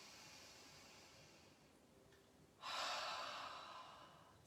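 A single long exhale during a yoga breathing exercise, an open-mouthed breath that mists a mirror, rising suddenly as a close, breathy rush of air after quieter breathing.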